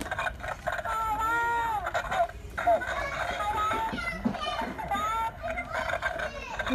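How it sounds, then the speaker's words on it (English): A bird gives a string of bending, whistle-like calls as it copies a person's voice, fairly close and recurring every second or so over a background of children and fowl clucking. "This bird is copying me."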